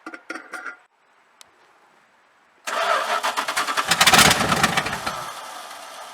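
A few faint clicks and a starter whir, then a 1973 Dodge Dart engine catches and roars to life, revving briefly before settling into a rough idle.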